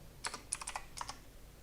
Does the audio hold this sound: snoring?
no